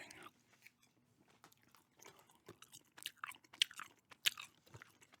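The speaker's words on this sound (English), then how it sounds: "gum chewing." Close, quiet gum chewing with wet smacks and crunchy bites in an irregular rhythm, growing a bit more active toward the end, with no talking.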